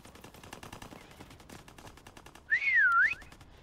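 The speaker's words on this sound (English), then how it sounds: "Final whistle." A single loud, wavering whistle sounds near the end of a Call of Duty WW2 prop hunt match, rising and falling for about half a second over a busy bed of distant gunfire.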